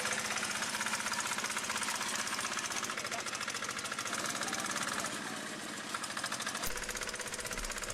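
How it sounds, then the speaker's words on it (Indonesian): A homemade remote-controlled rice field plough tractor runs steadily, its small engine giving a continuous loud, rapid knocking chug close by with no break in rhythm. "Petani tersebut membuat traktor pembajak sawah yang digerakkan dengan remote control."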